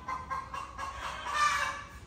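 A rooster clucks in several quick bursts followed by a longer, louder call, close by and alone.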